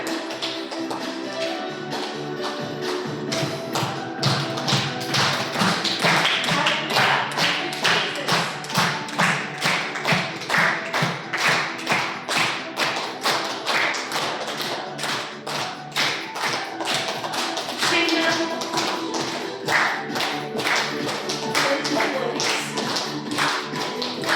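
A church congregation claps hands in a steady, rapid rhythm for over twenty seconds, loud and continuous, with music and voices blended in beneath the clapping.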